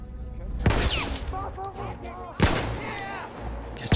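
Gunfire in the video game Battlefield 1, two sharp rifle shots about two seconds apart with game voices and effects around them.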